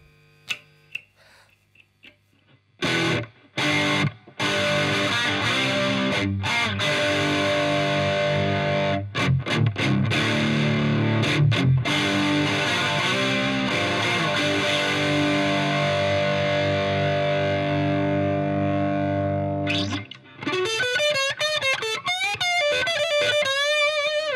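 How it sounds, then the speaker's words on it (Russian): Electric guitar played through a Marshall amp in a concert-style setting, giving heavily distorted sustained chords with short stops and palm-muted chugs, loud and close, ending in squealing feedback-like warbles. "вот такой звук получается через Маршалла, когда я на концертах играю."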